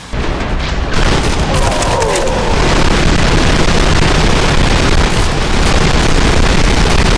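A minigun roars in continuous rapid fire alongside loud explosions and heavy booms in a video game, with the dense gunfire and blasts filling the whole stretch.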